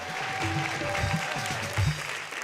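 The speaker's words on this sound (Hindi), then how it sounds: "एक बार जोरदार ताली बजा के बताओ" A short burst of audience clapping, moderately loud and steady, with some crowd noise underneath.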